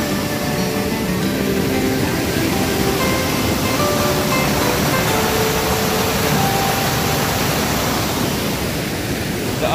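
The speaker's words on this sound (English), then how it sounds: "I can stand right next to all this water and it's just flowing" Water flows steadily beside a lake at a California trout fishing spot, a loud, continuous rushing wash like a small waterfall or stream, unbroken and close.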